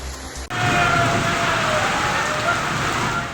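Heavy rain pours down in Alwar, Rajasthan, a dense continuous roar of water on surfaces that starts abruptly after a brief quieter moment and stays loud throughout.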